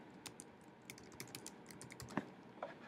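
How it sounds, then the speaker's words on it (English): Light clicking keystrokes on a computer keyboard as a web address is typed, a quiet irregular run of taps with one sharper press near the end, no voices. "you would type in the URL for that"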